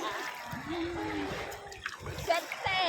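Water splashes around people bathing in the sea, with a voice and other talk over broadband wash and spray throughout.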